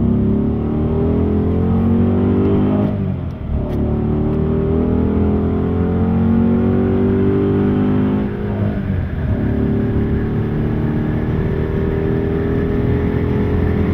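A Chevrolet Camaro race car's engine roars at high speed in fifth gear on a track, a loud sustained drone with brief dips around gear shifts, then rising again steadily.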